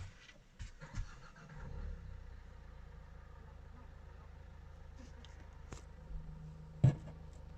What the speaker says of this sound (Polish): Teraz pójdziemy odpalić auto.